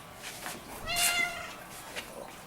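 A cat meows once, a clear drawn-out call near the middle, with faint quieter mews around it in a quiet room.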